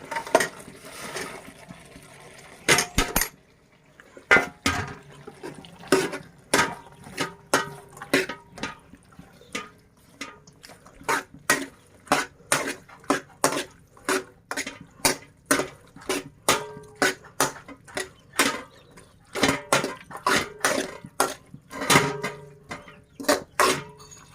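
Broad beans dropped into cooked tomato curry in a pot, a long run of sharp, irregular clinks and taps, often in quick clusters, with short quieter gaps between.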